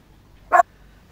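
A small dog gives a single short, sharp bark close by, standing out clearly against an otherwise quiet room.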